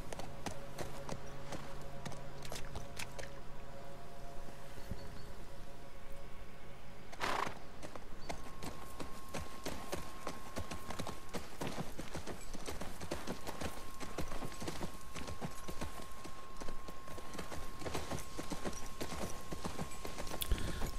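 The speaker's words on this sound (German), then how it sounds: "Das Schöne ist auch, das Pferd bewegt sich wie ein Pferd." Horse hooves clip-clop steadily in a rapid, continuous rhythm while riding through a post-apocalyptic area in The Last of Us Part II on PS4, with a brief whinny and faint game ambience underneath.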